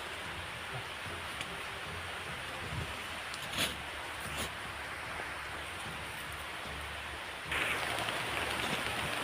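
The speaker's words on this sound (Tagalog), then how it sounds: "Talagang umulan na talaga mga rin, oh." Steady rain falling in a forest, a dense, even hiss of drops with occasional louder patters, continuous and enveloping with no talk.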